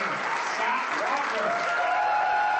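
Assembly Republicans applauding and cheering the governor-elect, a dense, continuous burst of clapping from a room full of people, loud and close with no break.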